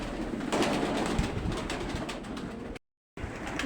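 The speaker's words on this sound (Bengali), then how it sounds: "এত গিরিবাজ কবুতরগুলো সব নামতেছে খাবার খাওয়ার জন্য" Giribaz pigeons descending to feed at a small pigeon farm, a dense flutter of wings and soft cooing throughout, loud and close, broken by a brief silent gap near the end.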